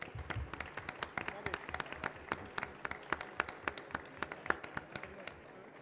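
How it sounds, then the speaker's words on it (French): An audience applauds a prize winner at a French environmental innovation awards ceremony. The clapping is moderately distant and lively, with a few sharper claps standing out, and it continues steadily throughout. "Et on applaudit maintenant Monsieur Lamati."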